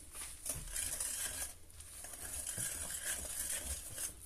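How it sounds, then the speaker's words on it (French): Spoon scraping and stirring chocolate cake batter in a bowl, a quiet rhythmic swish and clink repeating every second or so, close and alone with no voices. "Et vous remuez"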